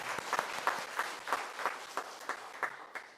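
Church congregation clapping together at a Sunday afternoon revival service in Daegu, a steady rhythmic applause of regular beats at moderate distance with no talk over it.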